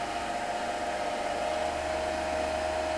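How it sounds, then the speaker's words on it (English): An electric motor coupled to a three-phase alternator runs at about 1500 RPM during an open- and short-circuit test, producing a steady, loud, unbroken whine with a constant pitch. "Now we are applying voltage to the alternator, so the motor is rotating with the RPM 1400 something"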